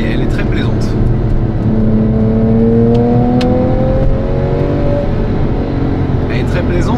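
A Porsche 911 Carrera GTS engine drones loudly from inside the car, its pitch rising in long, smooth pulls through the revs as it accelerates, with faint clicks and a speaking voice mixed in.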